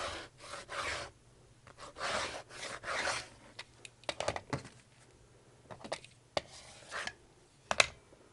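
Stretchy tee fabric sliced with a crooked, worn blade, heard as close rasping strokes in uneven bursts, then sharper snips and scrapes.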